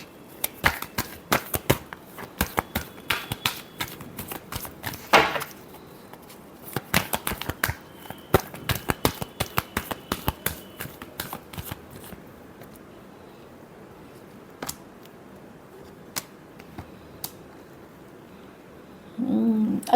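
A deck of tarot cards is shuffled by hand, giving quiet, rapid flicks and riffles in uneven bursts, then a pause and a few last snaps.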